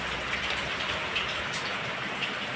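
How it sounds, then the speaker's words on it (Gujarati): Heavy rain pours down in an unbroken, hissing patter of drops striking surfaces, steady and fairly close, with no one speaking. "વરસાદ ચાલુ છે અત્યારે ધબધબાટી બોલાવે"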